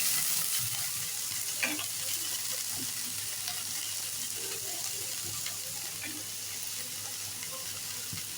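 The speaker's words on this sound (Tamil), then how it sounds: "பீன்ஸ் வாஷ் பண்ணி பீன்ஸ் ஃபுல்லாக போட்டுட்டு நல்லா கிண்டிகிட்டே இருங்க" Beans and onion frying in a pan while being stirred, a steady close sizzle with occasional scraping clinks of the spoon, no talking.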